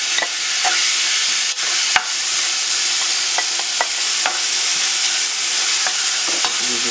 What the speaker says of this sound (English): nagpainit na tayo ng mantika sa ating pan. Lalagyan na natin ng ating onion.